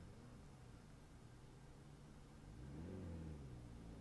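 A car pulls away and accelerates in Forza Horizon 4 while being driven on the left in England, a steady engine drone that rises in pitch and swells a little louder near the end, heard alone without talk.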